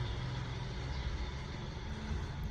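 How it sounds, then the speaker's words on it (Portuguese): A bus passes in the rain, a faint, steady low engine rumble and tyre hiss from a distance with no speech. "Esperando o ônibus passar."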